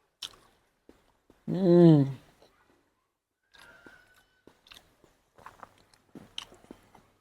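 Someone eats a spoonful of eggplant and potato curry with hot rice. A short voiced murmur comes first, then soft, close chewing and mouth clicks in an uneven rhythm.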